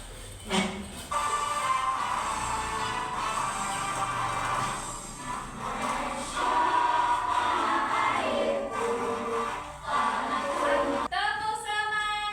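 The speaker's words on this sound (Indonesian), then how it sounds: "Kita menyanyikan lagu Indonesia Raya dengan cepat ya." A group stands and sings the Indonesian national anthem, Indonesia Raya, at a brisk tempo, many voices blending into a full, steady chorus in a room.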